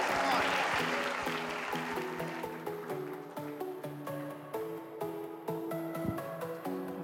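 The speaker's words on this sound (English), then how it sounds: "Give it a round of applause." Audience applause at an apparel graduation day awards ceremony, a broad wash of clapping that starts loud and thins out while steady background music or tones continue underneath.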